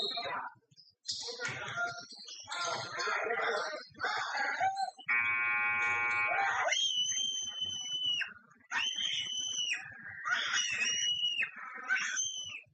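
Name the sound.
game buzzer sounding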